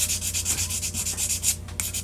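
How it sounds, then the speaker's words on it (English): A hand rubs 320-grit sandpaper over a surface coated in milk paint in quick, even back-and-forth strokes, a loud close scratchy rasp with a brief pause near the end, and no voices. "sand a little bit more"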